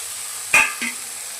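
Fried onions, garlic and chili being stirred in a pan, a soft steady sizzle broken by a sharp metallic scrape and clink of a utensil, then a smaller second knock.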